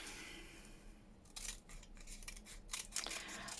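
Scissors snip paper for a junk journal with book page file folder spots, giving faint, quiet crisp cuts that come in a few bursts, the last ones sharper.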